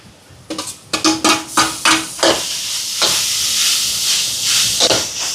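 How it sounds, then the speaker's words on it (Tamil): Sliced onions sauté with ginger garlic paste in a pan, giving a steady hiss and sizzle broken by a run of sharp scraping stirs near the start. "வெங்காயம் எல்லாம் வதங்குது இஞ்சி பூண்டு பேஸ்ட் சேர்க்குறேன் அப்படியே கொஞ்சம் வதங்கட்டும்"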